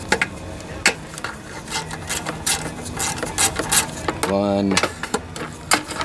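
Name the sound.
removing 3/8 bolts from Briggs and Stratton lawnmower engine shroud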